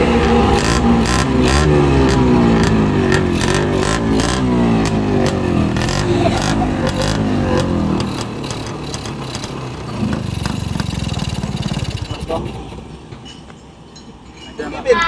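A Kawasaki Brutos motorcycle with its carburetor partly covered runs close by, its engine revving in uneven pulses, then settling to a lower rumble toward the end.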